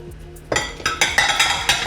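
Bolognese sauce with crushed tomatoes and fresh basil is stirred in a pan, with about five rhythmic, close clinks and scrapes of a utensil against the metal after a quiet start.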